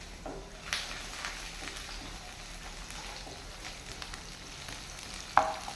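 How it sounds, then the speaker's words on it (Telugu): Chopped green chillies and onions fry in hot oil, a soft, steady crackle with occasional light scrapes and one sharp clink near the end, fairly quiet. "ఆయిల్ వేడైంది. ఇప్పుడు పచ్చిమిర్చి ముక్కలు, ఆనియన్స్ వేసేసుకుంటున్నాను."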